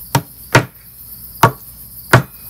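Four sharp, evenly spaced hammer blows drive a small wooden wedge into a half dovetail mortise and tenon joint on a shaving horse, close and loud with no talking.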